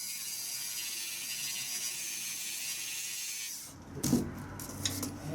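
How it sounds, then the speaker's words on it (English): A Dremel with a grinding wheel clearing out a notch for a portable mini fire spit, a steady high grinding whine that stops partway, followed by a few light clicks and handling knocks. "we got the grinding wheel and the Dremel, and let's just, I guess, use it to kind of clear out this whole notch"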